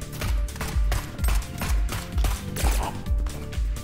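Rapid bursts of gunfire repeat in a steady rhythm in the game Neon Abyss, loud and close, with heavy low thumps under a dense, busy game soundscape.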